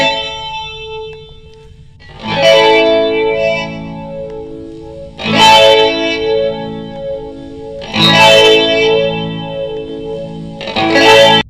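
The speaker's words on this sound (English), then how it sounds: "around the 70s, you get kind of modulation reverbs on this one" Guitar played through a 99-program DSP reverb unit converted into a pedal, set to a modulation reverb program: four loud strummed chords ring out with a shimmering, wavering wash and long sustain, no voices.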